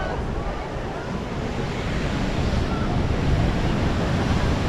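Ocean surf washes steadily at the end of Santa Monica pier on the Pacific, a continuous broadband roar of breaking waves mixed with wind noise, with no talking.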